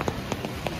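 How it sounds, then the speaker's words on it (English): Heavy rain bucketing down outdoors in Melbourne, a dense close patter with a few sharper drop taps, loud and unbroken across the short stretch. "It's raining, quite bucketing down actually"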